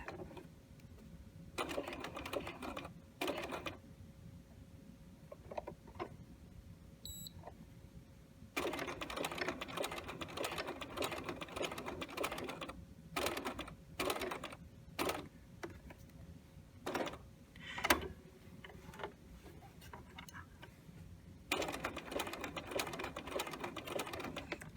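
A sewing machine stitches the curved seam of a fly zipper in a handful of short bursts and longer runs, close and fairly quiet, with gaps of near silence between them.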